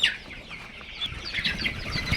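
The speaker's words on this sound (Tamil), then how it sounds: "மக்களை இங்கே பாருங்கள் கோழி எவ்வளோ ஆக்டிவாக நல்லா போயிட்டு வருது" Giriraja chickens on a farm clucking in soft, scattered calls, with a steady low rustle of birds moving about underneath; no one speaks.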